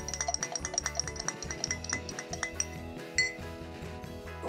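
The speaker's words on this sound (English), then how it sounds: "Just give that a quick stir" A spoon stirs a smoky Old Fashioned cocktail with bitters in a glass, giving quick, rhythmic, light clinks and scrapes up close, with no talking.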